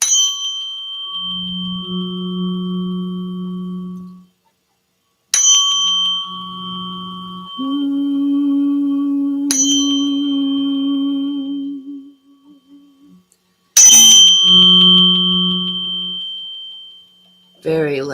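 A 174 Hz solfeggio healing tone, heard as several struck, bell-like tones that ring out into steady low hums, with pauses and a shift to a higher pitch partway through.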